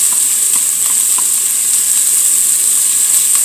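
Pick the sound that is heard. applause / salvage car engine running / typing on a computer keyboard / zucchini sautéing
zucchini sautéing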